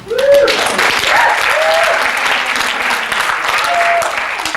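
A comedy troupe's audience applauds itself in a steady, full round of clapping that fills the whole stretch, with a few brief voices and whoops rising above it.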